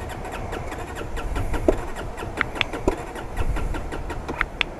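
A wet French motorbike cranks repeatedly without catching, the starter churning over low rumble with short bursts and clicks, fairly quiet and close.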